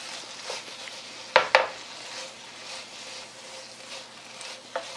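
Spicy sweet gochujang dried squid strips stir-fried in a pan over high heat, a steady soft sizzle with a few sharp utensil clacks against the pan, close and without talk.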